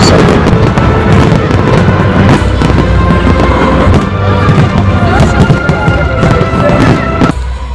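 A fireworks salute at Peterhof crackles and bangs loudly and continuously, with dense overlapping pops and booms alongside a crowd's murmur throughout.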